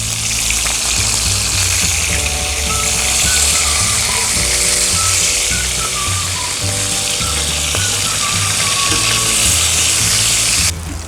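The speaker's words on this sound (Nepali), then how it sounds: "यो थाई पिस पनि फ्राई भइसक्यो" Quail thigh pieces fry in a pan for quail curry, giving a steady, loud, close sizzle throughout with faint clinks of a utensil, and no talking.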